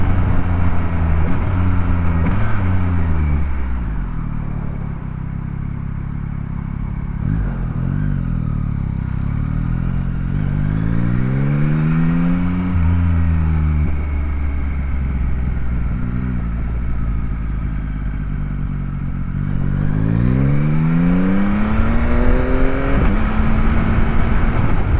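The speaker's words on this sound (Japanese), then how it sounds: "深夜の街中を転がすのが気持ちいいですね、このバイク" A Yamaha MT-09 SP motorcycle engine revs and shifts through gears nearby on late-night city streets, pitch climbing and dropping repeatedly as the bike accelerates and slows, loud and continuous.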